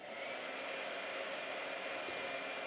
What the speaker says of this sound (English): I love the blow dryer. It's so satisfying.